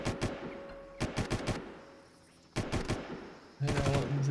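Bursts of rapid gunfire in Far Cry in short volleys, separated by quieter gaps, with a sustained tone appearing near the end.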